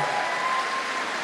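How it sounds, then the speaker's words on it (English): An audience at a Strictly Come Dancing charity night applauds a pair of dancers, a dense burst of clapping that fills the hall for a brief moment. "Give them a big round of applause, ladies and gentlemen"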